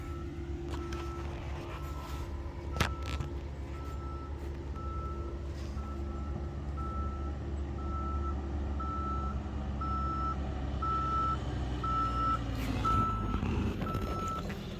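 Regular reversing beeps from an earthmoving machine working on a farm, steady and fairly near, over a loud diesel engine rumble that swells slightly toward the end.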